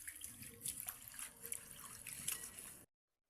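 Tinangkong being washed under a running tap makes a soft, continuous stream of water splashing and trickling into a sink, close and fairly quiet, stopping abruptly near the end with no talk.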